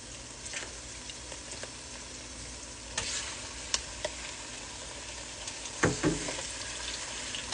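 Beef dropped into a pot of fried onions in mustard oil with cardamom and cinnamon, giving a steady close sizzle with soft stirring and a few louder spatters and scrapes, no talking.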